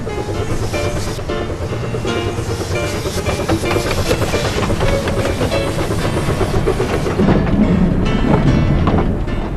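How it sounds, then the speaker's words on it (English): A vintage steam train hauled by a small locomotive runs on a New Zealand branch line carrying miners, with steady wheel clatter, rumble and hiss throughout, loud and close. "miners ought to feel honoured travelling the mile or so to Rotowaro in a vintage train behind a sea loco"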